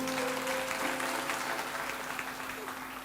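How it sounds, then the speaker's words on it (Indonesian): A congregation applauds at an Indonesian church sermon, sustained clapping from a large crowd filling the space evenly, with steady musical tones from a keyboard running underneath. "kasih tepuk tangan bagi Tuhan Yesus"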